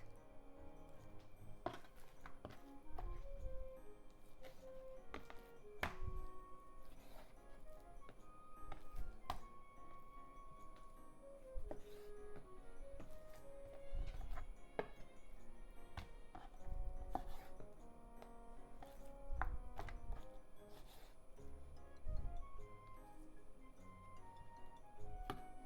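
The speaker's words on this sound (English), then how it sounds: "Slant the knife and make it into thin slices." A knife slicing chicken on a cutting board, with repeated firm chops and taps at an uneven pace, close and fairly quiet, steady throughout.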